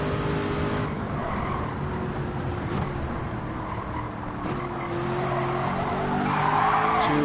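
Car tires skidding and squealing in the Gran Turismo 7 racing game as the back end steps out under power, a sustained screech over a steady engine drone, loud and continuous with a brief rise near the end.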